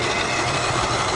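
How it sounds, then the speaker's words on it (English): A garden railway model locomotive runs with coaches on an outdoor track, freshly cleaned and lightly lubricated, giving a steady, close mechanical whir and rolling rumble that stays even throughout, with no voices. "the engine is performing with coaches straight out of the box"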